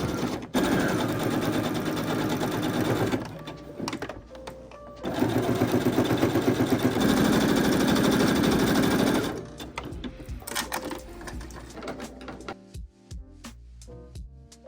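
A sewing machine understitches the facing of a Simplicity S3108 vest, running in long, loud, steady bursts of rapid stitching with brief pauses between, then ending in a few short stops and clicks.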